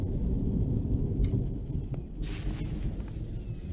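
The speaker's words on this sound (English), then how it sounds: "And I think that's the end of the storm" Thunder rumbles through a thunderstorm in the survival game The Infected, a low, continuous rolling boom with faint rain hiss and a few sharp crackles as it fades slightly.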